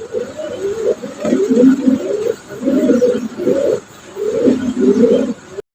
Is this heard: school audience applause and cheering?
no